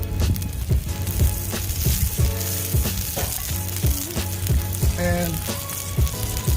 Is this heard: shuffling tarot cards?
no